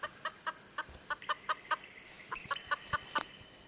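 A chicken in a Roblox obby game clucks in a steady series of short, clear, evenly spaced calls, fairly close and with no talking over it.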